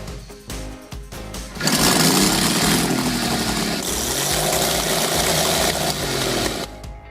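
A vintage rotary-cylinder motorcycle engine starts with a few sputters, then runs in a loud, rough, rattling chug that holds steady before easing off at the end.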